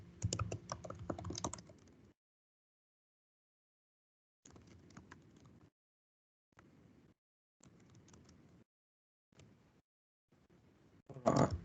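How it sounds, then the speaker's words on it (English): Bursts of typing on a computer keyboard during an online writing and reporting class, rapid clustered keystrokes in several short runs separated by silent pauses, fairly close and clear with no talking over them. "It's hard to see what I'm typing, right?"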